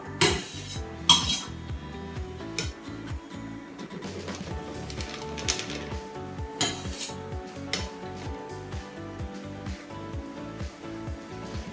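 A spatula works cream topping onto a tres leches cake, giving close, repeated light metallic taps and scrapes in a steady rhythm over a faint music bed, with no talking.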